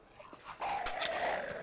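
A dog in the video game INSIDE gives a short whimpering yelp followed by a sustained whining cry, fairly close and loud.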